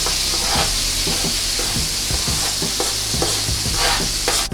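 Serrano pepper, shallots and pineapple sizzle loudly in beef drippings in a hot pan as they are stirred and tossed. A steady, close frying hiss runs throughout, with scraping stir sounds and no talking.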